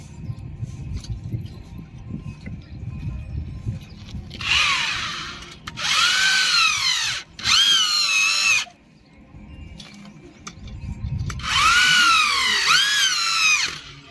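A power tool tightens a bolt on a dish antenna bracket for a Tata Sky or DD Free Dish setup, sounding three loud, close bursts of whining, rising and falling motor squeal separated by brief pauses over low background rumble.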